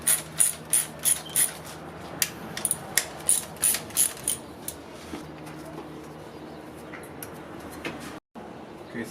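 A ratchet with a 10mm socket loosens intake bracket bolts on a 2003 Toyota RAV4 1AZ-FE engine, giving a close, rhythmic series of quick clicking strokes that slows and fades into quieter background noise.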